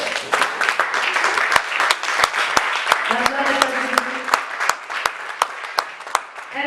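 A church congregation claps and applauds, sharp rhythmic claps ringing out over a murmur of crowd voices and cheering, lively and sustained across the room.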